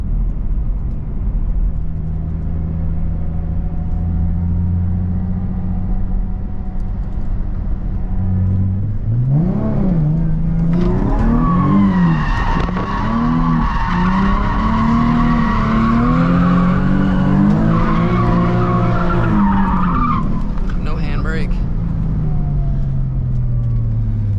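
A Nissan 350Z drifts in a parking lot: a steady idle gives way after about nine seconds to loud, swooping engine revs and long tire squeal and skidding that continue to the end, with no talking.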